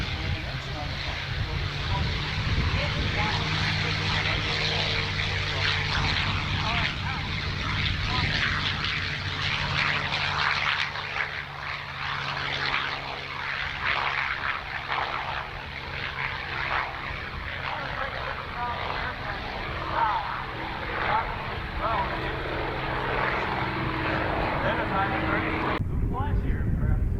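A P-51 Mustang propeller fighter flies at the Dayton Air Show, its piston engine giving a loud, sustained roar as it passes. The sound swells and fades across the pass.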